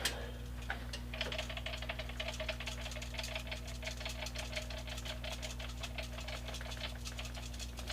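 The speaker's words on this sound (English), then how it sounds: "Once again, I'm going to grab my Scenic grass applicator." An electric static grass applicator runs with a constant low mains hum and a fast, buzzing rattle close by, steady throughout with no talking.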